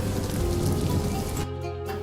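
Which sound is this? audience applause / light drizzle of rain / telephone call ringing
light drizzle of rain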